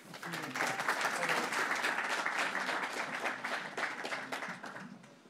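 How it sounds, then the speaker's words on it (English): A conference audience gives a speaker a round of applause, dense and even clapping from many people that holds steady for several seconds before tapering slightly at the end. "Let's give Steve a round of applause, please"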